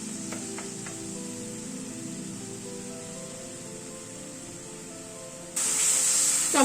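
Spice paste and tomato paste fry in a pan with a soft, steady sizzle and faint hiss, swelling abruptly louder near the end as the mixture is stirred.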